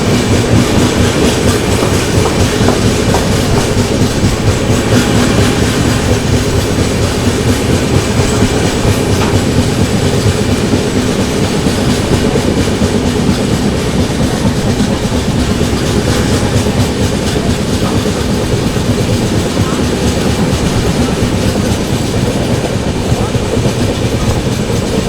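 Heard from on board, the Sanghamitra SF Express 12295 long-distance superfast train rolls on steadily, its wheels beating a dense, even clickety-clack over a constant loud rumble with no pause.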